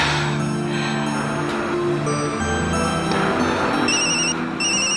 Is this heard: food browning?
no